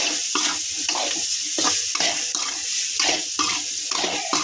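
Beetroot curry simmering in a pan over a low flame with chilli powder, turmeric and salt, giving a steady close sizzle and repeated stirring scrapes in an even rhythm, with no talking.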